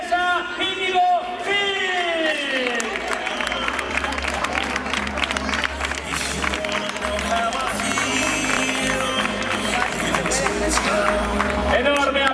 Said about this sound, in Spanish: Enorme aplauso para esta campeona